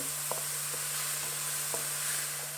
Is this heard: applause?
no